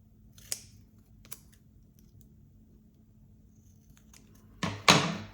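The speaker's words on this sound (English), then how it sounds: "I'm going to cut off the excess tape." Scissors snip through excess tape on a decal, giving two or three sharp, close cuts spaced apart, followed by a louder burst of crinkly tape handling near the end, with no talk.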